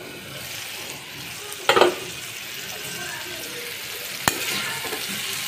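Potatoes sauté in a pan with a steady background sizzle, one brief rattling stir near the start and a sharp clack of a utensil later on.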